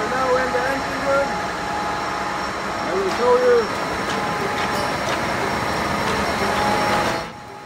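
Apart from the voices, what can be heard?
ferry engine room machinery running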